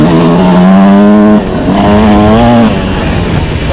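A 2026 Yamaha YZ125X two-stroke dirt bike revs hard on rocky trails, its loud, close, buzzing engine pitch climbing and holding through two throttle pulls before easing off.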